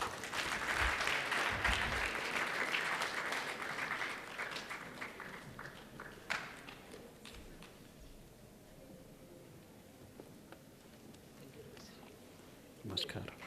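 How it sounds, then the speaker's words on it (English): Applause from a conference audience at a yoga event, fairly loud at first and then thinning into scattered claps and murmurs with a brief burst near the end. "Let's give a big round of applause."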